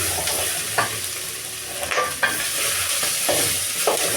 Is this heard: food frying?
yes